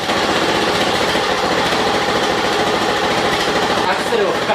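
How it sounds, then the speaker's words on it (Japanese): A Honda 2 hp outboard engine with a swapped carburetor idles in a close, continuous rattling buzz that stays even throughout, with a voice speaking briefly over it. "アイドリングに戻してみます"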